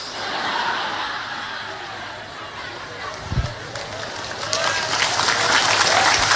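A crowd at a mosque gathering during a lively sermon, with scattered applause mixed with chuckles and murmuring chatter, swelling louder toward the end.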